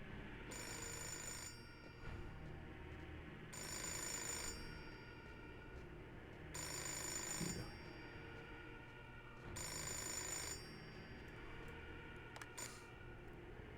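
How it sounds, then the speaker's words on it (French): Phone ringing in another room in the game Fahrenheit (Indigo Prophecy), four evenly spaced bursts of electronic ringing with steady pauses between them over a quiet ambient room tone. "Le temps de répondre au téléphone."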